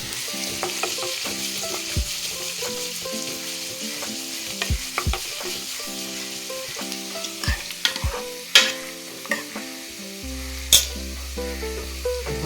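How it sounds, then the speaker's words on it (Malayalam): Boiled jackfruit seeds sauté in a pan, sizzling gently while a spoon scrapes and stirs them in frequent knocking strokes, close and clear without talk. "ചക്കക്കുരു വെന്തിട്ടുണ്ട് നല്ലപോലെ. ഇനി നമുക്കിതൊന്ന് വഴട്ടാം."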